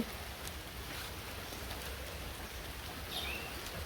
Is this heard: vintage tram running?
no